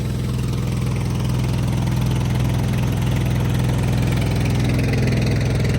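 A farm sprayer vehicle's engine runs with a loud, steady low drone and even rhythmic throb close by, with no clear change in pitch and no voices.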